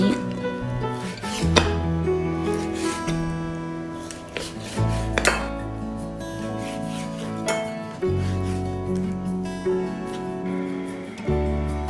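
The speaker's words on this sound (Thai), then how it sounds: "ก่อนอื่นเราต้องหั่นไก่ก่อนนะคะ หั่นแฉลบแบบนี" A knife slices raw chicken breast on a cutting board, repeated rubbing, rasping strokes with occasional sharper taps, close and steady, no one talking over it.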